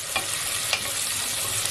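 Crushed garlic cloves, about eight, fry gently in a pan with a dense, continuous sizzle and a couple of brief stirring scrapes, loud and close, with no voices.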